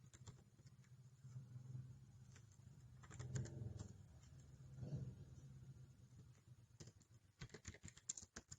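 Soft, intermittent keystrokes on a computer keyboard as stock-count data is entered, faint and quiet, with irregular clusters of taps over a low background hum.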